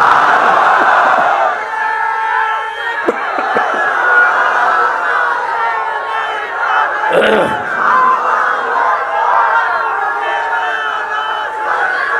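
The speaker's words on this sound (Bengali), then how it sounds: "এখন তাকবীর হবে, লিল্লাহে তাকবীর" A large crowd gathered for an outdoor Islamic sermon (waz) in Balukhali shouts the takbir, 'Allahu Akbar', in unison. The massed voices are loud and sustained, swelling in repeated waves with a brief break partway through.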